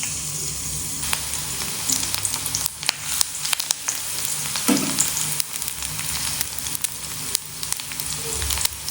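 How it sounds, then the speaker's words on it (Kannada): Finely chopped garlic fries in hot oil with a loud, close, continuous sizzle, broken by frequent spatula scrapes and taps against the pan. No one speaks. "ಎಣ್ಣೆ ಸ್ವಲ್ಪ ಕಾದ ನಂತರ ಒಂದು ಸ್ವಲ್ಪ ಬೆಳ್ಳುಳ್ಳಿಯನ್ನು ಹಾಕ್ಕೊಳ್ಳೋಣ"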